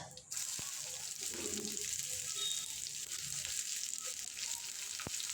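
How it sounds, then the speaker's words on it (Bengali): Whole cumin seeds, dried red chilies and chopped onion sizzle steadily in hot mustard oil, a close, continuous frying hiss with a few sharp clicks and no talking. "আমি এবারে তরকা দেব তার জন্য দিয়ে দেবো সর্ষার তেলে গোটা জিরে ফোড়ন শুকনো লঙ্কা আর কোচানো পেঁয়াজ"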